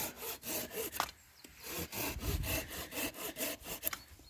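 A Tenju 240 mm hand saw cuts thin tree branches, giving a quick rhythmic series of rasping strokes, close and steady, with no voices.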